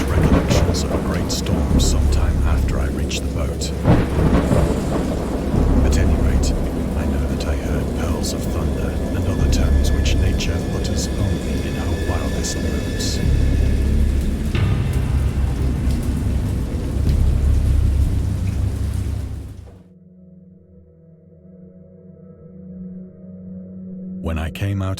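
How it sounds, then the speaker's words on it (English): A thunderstorm with heavy rain, loud rolling thunder and dense rainfall that drops away abruptly to a faint rumbling tail near the end, with no voice heard. "I have indistinct recollections of a great storm sometime after I reached the boat."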